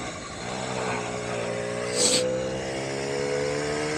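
A Puch Maxi moped engine drones steadily while riding along back roads, a close, continuous buzzing note with a brief surge of wind or passing noise midway.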